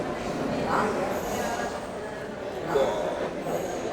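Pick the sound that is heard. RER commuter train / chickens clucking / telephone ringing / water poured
RER commuter train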